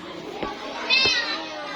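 A human voice imitates a cat's meow, giving a short rising mew after a faint earlier sound, brief and moderately loud against light background murmur.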